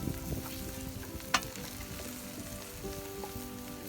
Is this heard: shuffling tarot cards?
no